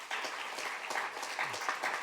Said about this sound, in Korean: 여러분 박수 한번 더 해주십시다